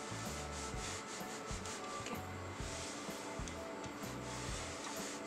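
A household iron presses and slides over a piece of cotton fabric laid on canvas, making a steady, close rubbing hiss with soft rhythmic thumps, with no talking.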